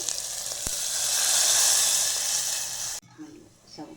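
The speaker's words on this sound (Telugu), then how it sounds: "తక్కువ వాటర్ పోసుకోవాలి" Water poured into a hot pan of tempering with curry leaves, turmeric and tomato for chana charu sizzles in a loud steady hiss for about three seconds, then stops abruptly, leaving faint kitchen sounds.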